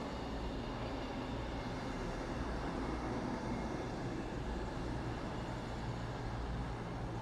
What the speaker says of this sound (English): Arriving in now will be your 1445 cross-country service from Plymouth through to Edinburgh.